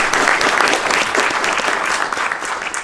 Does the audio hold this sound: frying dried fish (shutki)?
no